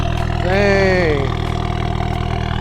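A Dodge Caliber SRT-4 engine idles with a steady, even rumble just after its first start, close by, while a voice speaks over it.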